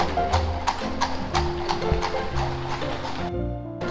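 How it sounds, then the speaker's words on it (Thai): A horse-drawn carriage clip-clops along a street in Salzburg, Austria, with steady hoof strikes close by over faint city ambience, ending in a quieter low rumble. "นะครับรถม้ากำลังวิ่ง"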